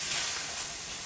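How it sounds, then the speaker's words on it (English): Food sizzles on a hot gas stove, a steady bright hiss that holds even and continuous throughout, with no voices over it. "that sizzle is obviously a nice indicator of how hot it is"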